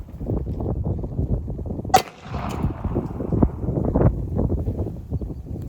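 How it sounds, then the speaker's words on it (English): A Ruby pistol fires a 32 ACP 72-grain full metal jacket round at a reproduction WW2 German M35 steel helmet from about five to six yards outdoors, giving one sharp, loud crack over steady wind noise. "So now I'm going to be doing 32 ACP, 72 grain, full metal jacket out of a Ruby."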